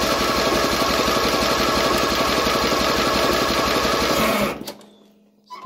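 An engine fitted with a homemade full steel tube exhaust line is cranked in a start attempt: a loud, steady whirring churn for about four seconds that then cuts off without catching, leaving near silence.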